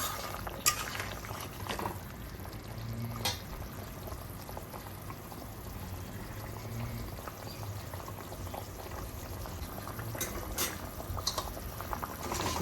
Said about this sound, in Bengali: ঝোলটা ভালো করে টকবক করে ফুটছে